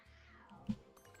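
A single short cat meow from the video game Spider Fox, faint and quick, rising and falling within about a second over a quiet game background.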